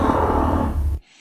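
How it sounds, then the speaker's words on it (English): A long, sustained low-pitched call, rough and slightly growling, held steadily for about a second before cutting off abruptly into quiet. "It's this long sustained note, very low in frequency."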